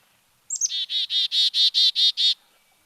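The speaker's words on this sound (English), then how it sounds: "the chickadees are singing, well, doing a warning call." A chickadee gives a winter warning call: a couple of thin high notes, then a fast, evenly spaced run of about seven harsh buzzy 'dee' notes, loud and close against a quiet background.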